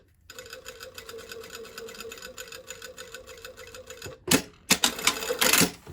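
A sewing machine runs steadily while stitching a shirt sleeve placket along a 5/8-inch seam line, a close, continuous mechanical whir lasting about four seconds, then two short louder bursts of stitching after a brief stop.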